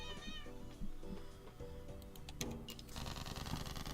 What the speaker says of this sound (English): Cat tag. Meow.